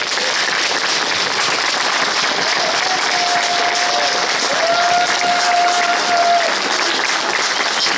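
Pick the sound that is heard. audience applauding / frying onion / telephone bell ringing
audience applauding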